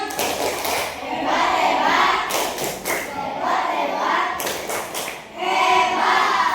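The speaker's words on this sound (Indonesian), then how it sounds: "Tepuk hebat." Elementary school classroom in Palembang where children do a rhythmic clapping chant, bursts of claps and thumps with young voices, loud and close, rising and falling in waves.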